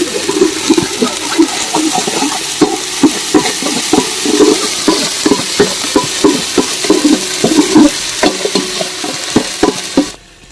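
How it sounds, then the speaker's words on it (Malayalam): Ginger-garlic paste frying in oil for prawn biryani sizzles loudly and steadily while a spoon stirs through it in repeated scrapes and clinks, close up and with no talk, then the sound cuts off at the end. "നന്നായിട്ട് ഇളക്കി കൊടുക്കും."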